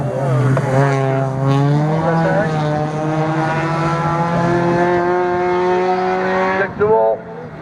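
A race car climbing the Hébécrevon hill climb, engine rising steadily in pitch as it accelerates hard through the gears, loud and sustained, with a brief shift near the end.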